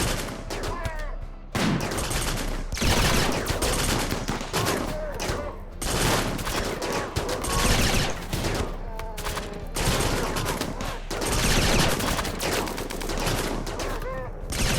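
Rapid bursts of gunfire from a RimWorld firefight crackle loudly in dense volleys, pausing briefly between barrages.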